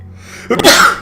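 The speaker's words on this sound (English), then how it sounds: "So I'm gonna sneeze here." A single sharp sneeze bursts out after a moment of quiet, close and loud, with a brief breathy tail.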